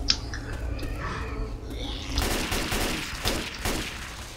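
Gunfire in the Left 4 Dead 2 video game: bursts of shots crackle over a dense, noisy game soundscape, growing louder and busier after the first couple of seconds, with faint voices mixed in.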